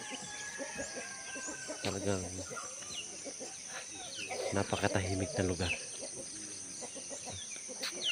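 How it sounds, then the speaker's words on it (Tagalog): Chickens cluck and crow with other birds calling in a quiet rural spot beside a virgin forest in the morning, a rooster-like burst around the middle, while a person speaks over them at moderate distance. "dito ang marinig mo ay yung mga manok, yung mga ibon."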